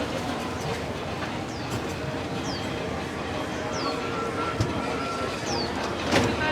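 The Disneyland Railroad train in Disneyland Park, California rolls along with a steady rumble and faint rhythmic clatter, birds chirping now and then and a voice talking over it.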